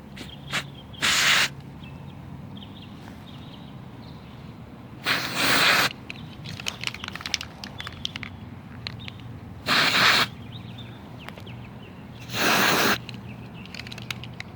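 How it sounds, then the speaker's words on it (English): Four short bursts of rusty metal primer spraying from an aerosol can into holes in a car body, separated by pauses with quiet handling noise in between. "Now I'm going to use some of this rusty metal primer and spray it in the holes."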